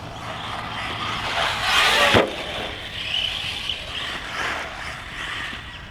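An ARRMA Senton MT RC truck on a 3S battery whines up to speed and zips past with a sharp rising-then-falling rush, its motor buzzing faintly afterward.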